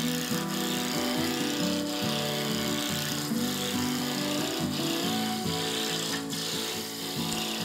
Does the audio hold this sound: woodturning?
yes